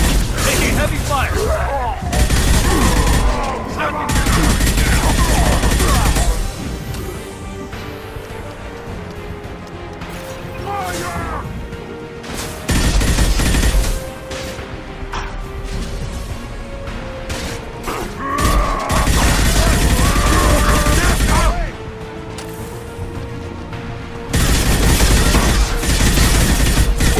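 Heavy gunfire in the Mass Effect 2 video game: loud, dense bursts of automatic fire and crashing impacts that come in waves separated by quieter stretches, with voices calling out at times.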